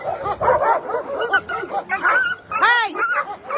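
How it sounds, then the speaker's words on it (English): Shelter dogs scuffle in a burst of overlapping barks, yips and snarling growls, loud and close, with a high whining yelp near the end, while a person's voice calls out among them. "Lots of the time when you hear this noise, they're not actually biting the dog. It's just sort of threatening behaviour."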